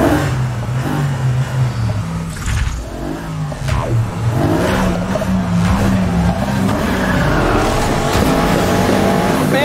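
Race car engines roaring and revving in the Need for Speed Heat video game, with tires squealing and skidding through turns; loud, continuous and close, with no talking.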